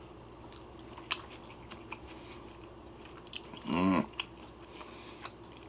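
Close, brief crunchy chewing of rehydrated freeze-dried taco-flavoured noodles with cornbread croutons, a short burst of bites against a quiet background.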